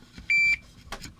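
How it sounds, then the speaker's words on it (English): Electronic kitchen timer beeping during a model-kit building session: one steady, loud high-pitched tone of about a quarter second, followed by low workshop clatter. "oh, there's the timer"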